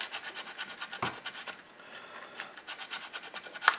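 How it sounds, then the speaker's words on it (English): A sanding stick rubs a plastic part of a Tamiya M41 Walker Bulldog model tank in quick, close, rhythmic strokes, soft and papery, with a short pause midway. "Then we'll take a flory sander."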